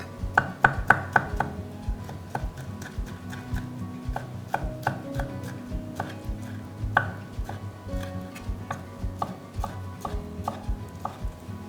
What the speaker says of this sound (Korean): 이제 다질게요.